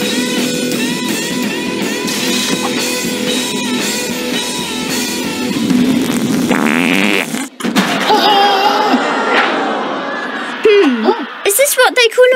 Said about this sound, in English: there are people called flatulists who actually make money from musical farts